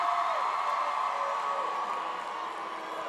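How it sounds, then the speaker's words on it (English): A lively crowd at the Cal Poly San Luis Obispo commencement ceremony keeps up a steady roar of cheering and whooping, dense and sustained from start to end, with no single voice standing out. "this is quite a lively crowd from yesterday"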